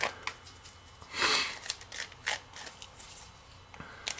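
An X-Acto knife blade scrapes along the sharp edge of a lava miniature base, giving close, dry scratchy strokes in short irregular bursts, with one longer rasp near the start and no talk.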